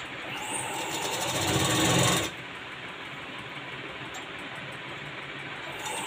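A sewing machine stitches the inner lining of a designer blouse, running steadily and fairly loud for about two seconds before dropping to a quieter, continuous hum with no talk.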